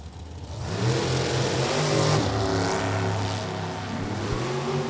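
A drag racing car at a NHRA division 3 event at Beech Bend Raceway running at full throttle, a loud roaring engine that rises and holds, then drops slightly in pitch toward the end.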